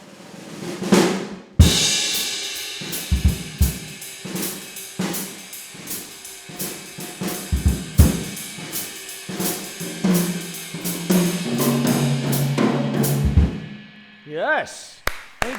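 A second drum kit is played in a lively groove of kick, snare and crashing cymbals, loud and close, ending with a few scattered hits after the cymbals fade.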